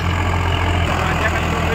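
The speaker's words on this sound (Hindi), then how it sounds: "ये चल रहा है ट्रैक्टर" A Swaraj 744 XT tractor engine runs at a steady, loud, low idle-like drone from close by, with no change in pace through the short stretch.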